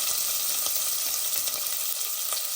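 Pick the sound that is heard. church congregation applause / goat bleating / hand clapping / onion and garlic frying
onion and garlic frying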